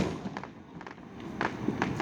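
Fireworks from a 4-inch mortar display after a Kansas City Royals game crackle and thump in the distance, a few scattered bursts at low level, with people nearby.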